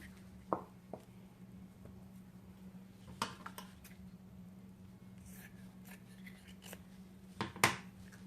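Scissors cut through upholstery material for a living room chair cushion in a few sharp, close snips separated by pauses, faint over quiet room tone.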